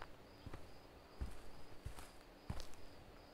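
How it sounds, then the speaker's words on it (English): Heavy footsteps of the Siren Head creature in a video game, a few faint, irregular thuds spaced apart over quiet ambient insect-like hiss. "This man has the heaviest footsteps I've ever heard in my entire life."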